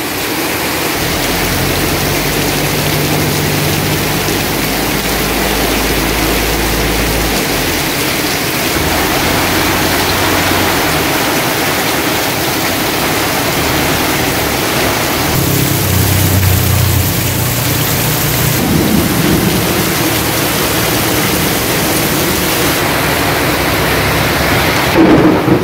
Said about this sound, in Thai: ฝนตกที่หาดใหญ่หนักมากเลยครับ